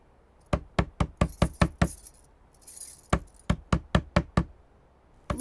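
Knocking on a house door in a Chhattisgarhi village home, two clear bursts of about eight sharp, loud raps each, separated by a short pause, with a final knock starting at the end.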